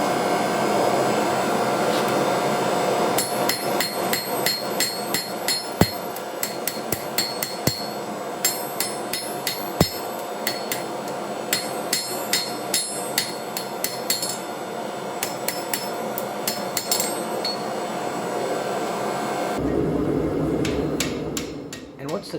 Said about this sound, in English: I kind of wanted to hammer most of this in, again, just to kind of save the pattern and take advantage of the Damascus without grinding it away.